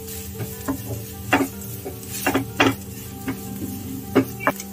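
Grated coconut sautéing in a pan over a low flame, with a faint steady sizzle underneath and sharp intermittent scrapes and clinks of a spatula stirring against the metal.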